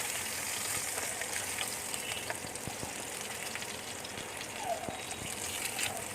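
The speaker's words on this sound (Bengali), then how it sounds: "মাছের মাথাগুলো কিন্তু খুব লাল লাল করে ভাজা হয়ে গেছে" Fish heads frying in hot oil in a pan, a dense, continuous crackling sizzle holding steady from start to finish, with no talking.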